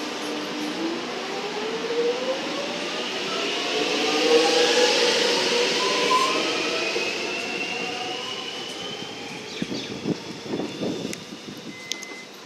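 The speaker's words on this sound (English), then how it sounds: "the Glen Waverley, the city service is now departing" A Metro train on the Glen Waverley line pulls away from Holmesglen station, its motor whine climbing in pitch as it accelerates and fades, then rail clatter and squeals follow near the end.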